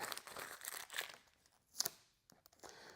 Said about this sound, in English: Let me remove the tape